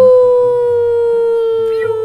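A person's voice imitates a siren with a loud, sustained wailing tone held for about two seconds, nearly alone and close to the microphone.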